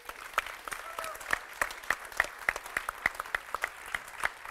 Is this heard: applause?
yes